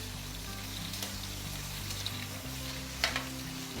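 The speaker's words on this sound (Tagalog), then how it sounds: "Sunod ay ang ating sahog na hipon. Yan. Alright, haluin din natin." Shrimp sizzle and fry in a pan as they are stirred, a steady crackling hiss with a few sharper clinks of the utensil against the pan, over a low hum of background music.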